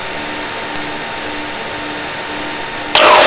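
A Pilatus PC-12 turbine engine in flight gives a loud, constant whining roar with steady high tones, heard from inside the cabin, ending in a brief rush of noise.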